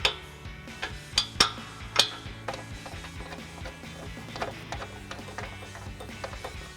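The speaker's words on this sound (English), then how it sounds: "So now we're going to go ahead and tighten down all of our hardware" Ratchet with a 14mm swivel socket tightening bolts on N-Fab nerf step bar brackets of a 2021-2023 Ford Bronco 4-door: quick bursts of metallic clicking, a few sharper near bursts early, then steady lighter ratcheting, no talk.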